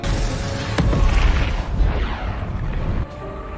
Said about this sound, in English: ignite his fire magic to trigger an explosion, utilizing the dragon's breath